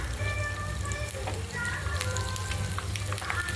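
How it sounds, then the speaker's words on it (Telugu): Ginger pieces sizzling and frying in well-heated oil after a tempering of spices, a steady close crackle and hiss throughout with a little background noise and no talk. "ఇప్పుడు ఇందులోకి అల్లం ముక్కలు వేస్తున్నాను."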